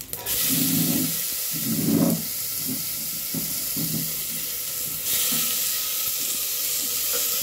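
Tomatoes sauté in a hot pan, giving a steady loud sizzle and hiss with some stirring bumps, and no voices over it.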